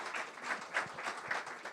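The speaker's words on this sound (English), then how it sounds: "Please give them a round of applause." Light, faint applause from a small audience at a career platform launch, a short stretch of scattered, loosely rhythmic hand claps.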